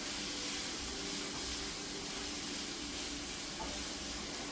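Corn frying in a pan with a little oil, a steady loud sizzle and hiss running without a break, no voices over it.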